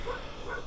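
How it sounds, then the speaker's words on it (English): Dogs barking in the distance, two muffled barks spaced apart, fairly faint over a low background rumble. "Fucking dogs barking."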